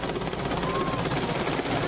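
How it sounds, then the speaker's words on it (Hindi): Military helicopters fly overhead, showering flower petals as a salute, and their thudding rotors give a continuous rhythmic chop beneath a broad engine roar. "हेलीकॉप्टर्स द्वारा पुष्प वर्षा की जा रही है"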